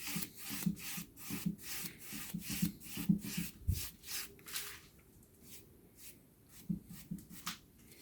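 A cloth wiping wood stain along the grain of a wooden surface, heard as close, rhythmic back-and-forth rubbing strokes that pause briefly and then resume, with no talk.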